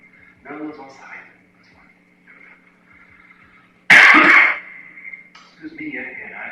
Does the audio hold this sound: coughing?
yes